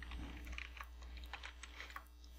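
Quiet, rapid key clicks from a computer keyboard as text is typed, a soft patter of taps over a low steady hum.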